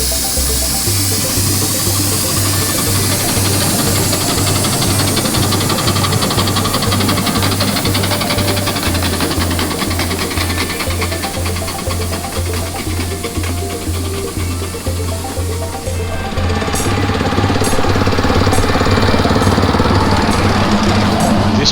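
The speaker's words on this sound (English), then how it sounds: "This locomotive is known as the Climax. It's actually LPG powered, with the driver sitting on 2 9-kilo gas bottles." An LPG-powered Climax miniature locomotive at a Galston Valley Railway play day chugs with a loud, rapid mechanical rattle and steady low throb, shifting to a harsher hissing tone near the end.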